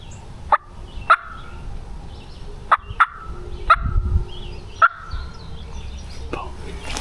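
Wild turkey gobbler on a ridge during a morning hunt, gobbling in several separate sharp bursts spread across the stretch, moderately distant and standing out over a quiet outdoor background.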